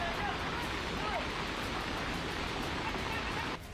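Fast floodwater rushes through the Raksiya drain in Haldwani during heavy rain, a steady loud broadband roar of churning water that drops slightly at the very end.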